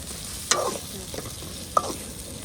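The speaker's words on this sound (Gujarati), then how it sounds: "હવે આપણે બધું હલાઈ નાખીશું" A spoon stirs bombay duck (bombil) curry in a pan, cooked without added water, with two sharp scrapes against the pan over a soft, low sizzle.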